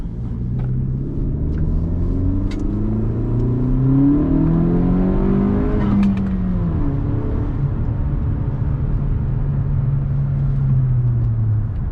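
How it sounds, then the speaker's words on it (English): A turbocharged car pulls hard at full throttle, its engine note rising through the revs, dropping at a gear change and climbing again, loud and close inside the cabin with no speech. "So I floored it in map 3, and I only hit 22 pounds of boost."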